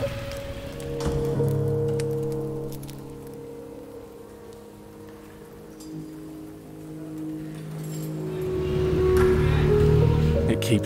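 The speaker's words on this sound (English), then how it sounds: "It's drizzling," Light drizzle falling on a city street at night in Hanoi, a soft steady patter of rain under low rumbling traffic and background voices, louder toward the end.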